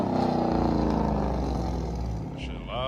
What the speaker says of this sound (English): Yeah, it's an RT for sure. I can tell by the way it rattles afterwards.